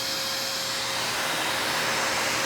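An Aerus Lux Electrolux Guardian 90th Anniversary upright vacuum cleaner runs steadily up close, a loud, even whooshing roar with a faint motor whine and no talking.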